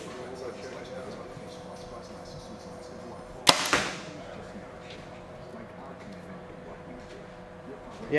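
A carbon compound bow shoots an arrow, giving a single sharp snap with a brief ringing decay, while a person talks softly around it.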